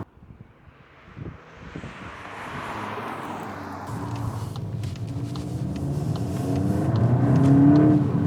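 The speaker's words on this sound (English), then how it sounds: "just on hard acceleration there now, you can feel the wheel pulling a little bit" A Volkswagen Golf GTI Clubsport hot hatch accelerates hard: engine drone and road rumble build steadily for several seconds, heard from inside the cabin with some wind noise and no one speaking.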